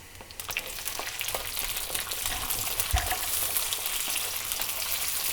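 Garlic and ginger frying in oil for Indo-Chinese mixed veg noodles produce a steady, close sizzle with scattered pops and a soft thump, and nobody talks.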